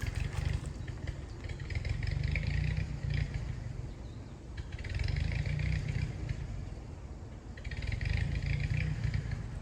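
A $75 army generator engine runs steadily in a close, loud, low chugging drone, its rough pulse swelling and easing in a few slow surges over the clip.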